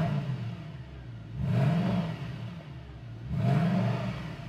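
Mercedes-AMG CLK 63 Black Series V8 revved twice while parked, each blip swelling into a deep close roar before settling back to a burbling idle, no speech.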